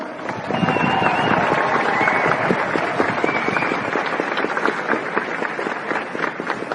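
A university matriculation ceremony crowd claps steadily in a broad, sustained burst of applause, dense and fairly loud, with a few cheers rising above it.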